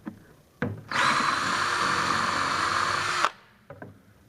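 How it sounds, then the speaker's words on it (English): An electric drill whirs steadily for about two seconds as it bores through a plastic bucket, preceded and followed by a few light knocks. "I'm going to stick that drill bit right there"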